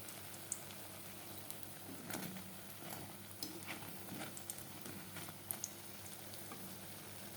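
Beguni, thin eggplant slices in batter, frying in hot oil; a steady crackling sizzle with brief pops runs close and moderately loud throughout, with no voices.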